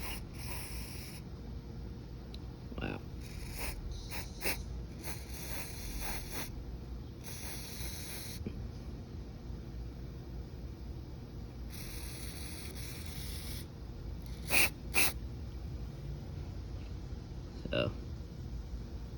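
Several short hissing bursts of aerosol cleaner sprayed onto the MAF sensor of a 2013 Ford F-150 3.5L, separated by pauses, over a quiet background with a brief spoken exclamation.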